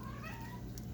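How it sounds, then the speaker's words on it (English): Indoor house cats meow faintly in the background, with a few short tonal cries over a low steady room hum. "You can hear my cats in the background."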